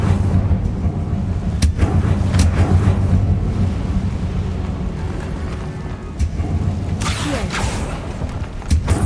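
Incendio fire spell cast in Hogwarts Legacy, heard as a loud, rumbling burst with booming cracks and rolling crackle, several sharp hits standing out over a heavy continuous roar.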